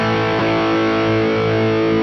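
Electric guitar run through a Fender Pugilist distortion pedal, a single sustained chord ringing thick and heavily distorted with a bassy, slightly flubby tone, loud and steady throughout.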